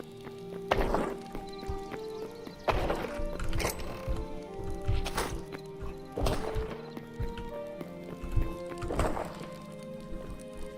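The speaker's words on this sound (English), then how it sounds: "Gotta get on the horse and take the long trip back." Hooves clip-clop in an even, steady rhythm as a horse travels in the Hytale video game, with loud periodic thumps standing out over a busy, continuous background of game sound.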